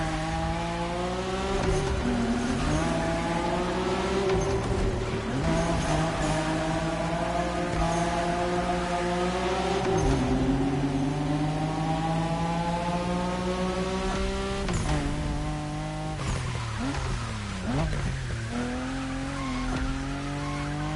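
Race car engine screaming while drifting in The Crew Motorfest, revs climbing and dropping through repeated shifts with tire squeal, loud and continuous throughout.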